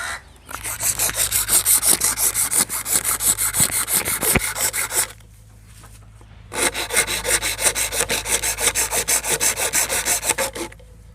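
Coconut shell being rubbed smooth by hand, a loud steady rasping scrape in rapid back-and-forth strokes, pausing briefly midway before resuming.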